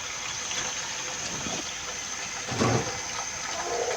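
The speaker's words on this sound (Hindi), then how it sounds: "हमारा तेल जब सही तरह गर्म हो जाएगा इसमें हम गोश्त डाल देंगे।" Chicken meat drops into hot oil for a white chicken karahi, setting off a steady, fairly loud hiss of sizzling that swells briefly partway through.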